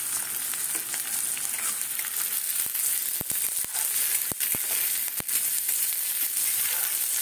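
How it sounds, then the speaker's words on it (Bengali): Soybean manchurian frying in a pan, a steady bright sizzle of hot oil with occasional sharp crackles and pops, close and continuous. "বেশি ভাজবো না মাঞ্চুরিয়ানটা এইভাবেই হালকাভাবে হবে"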